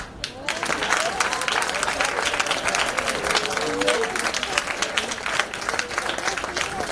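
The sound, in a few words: audience applause for the top performers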